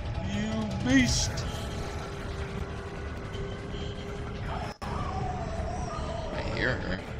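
A she-wolf howling in the video game Metal Gear Solid 4, brief rising wavering cries heard near the start and again near the end over a steady rumbling game background.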